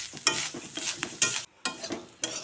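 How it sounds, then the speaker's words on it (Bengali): Grated coconut is stirred and roasted in a wok with a spatula, making a string of brisk scraping strokes over a soft sizzle, with one brief pause in between. "একটা কড়াই বসিয়ে দিয়েছি নারকেল, এখন নারকেলটা একটু ভেজে নেব।"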